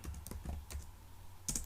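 Short burst of keystrokes on a computer keyboard, a quick run of close, crisp clicks with a pause before a final few taps, quiet and alone.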